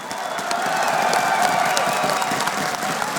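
A large arena crowd at an EMS One Katowice CS:GO semifinal cheers and applauds in a dense, continuous roar, loud and sustained for a few seconds with no talk over it.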